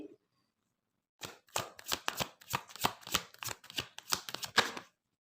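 Tarot cards being shuffled in a string of quick, close riffling bursts after a short quiet start, crisp slapping flutters in uneven rhythm that stop near the end.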